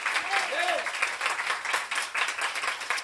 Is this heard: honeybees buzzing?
no